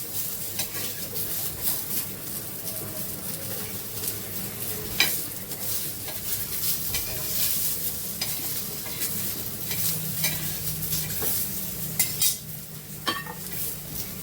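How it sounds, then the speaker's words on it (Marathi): Crab pieces roasting with onions in a pan, a steady sizzle with repeated scraping and clinking of a stirring spoon against the pan throughout, close and fairly loud, no talk. "मस्त कांद्यासोबत आपण भाजून घेते"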